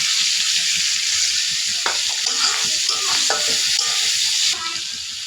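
Shrimp sizzle loudly in a hot pan as onion and green chilli are stirred in, with a sharp burst of crackling and repeated scraping stirs before the frying settles to a softer hiss.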